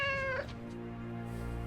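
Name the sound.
cat meowing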